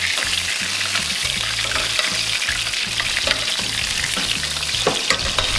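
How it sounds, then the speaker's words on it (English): Steaks sear in a pan with garlic and rosemary while being basted, giving a loud, steady close sizzle throughout, with occasional spoon scrapes and clinks against the pan on top. "Now we're just gonna baste these steaks"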